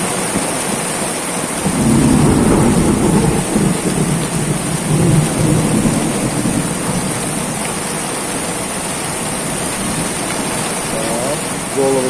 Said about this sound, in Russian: Уже 10 минут, как льет ливень.